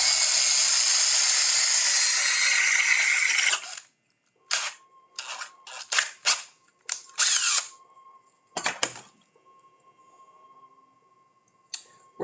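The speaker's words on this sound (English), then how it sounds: "you have to drill out a little thing." A power drill bores through a piece of scrap metal, running loud and steady for several seconds, then stops, followed by a series of short whirring bursts and clicks.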